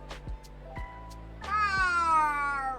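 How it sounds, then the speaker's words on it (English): Cat meowing in the eMLB baseball video game: a few short knocks, then a clear, drawn-out meow with a wavering, falling pitch rising over the background, fairly close and loud. "Meow."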